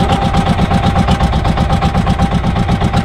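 A boat engine drones steadily with a regular low chugging pulse, loud and close, running continuously with no voices.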